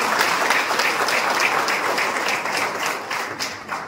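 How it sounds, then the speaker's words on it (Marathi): A crowd at a youth organisation's public event claps in sustained applause, a dense steady patter of many hands that tapers slightly toward the end, with no speech. "जोरदार टाळी"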